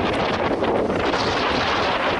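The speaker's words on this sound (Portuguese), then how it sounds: "Ó, tá ventando," Wind buffeting a microphone on a Caribbean island off Colombia, a steady loud roar of gusts filling the whole clip with no break and no voices.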